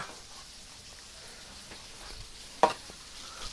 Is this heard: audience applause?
no